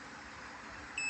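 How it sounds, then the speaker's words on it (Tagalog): A steady electronic multimeter continuity buzzer tone cuts in near the end, sharp and close, following a second of quiet hum, while testing a diode on a Panasonic air conditioner board. "buzzer test tayo para malaman natin ba"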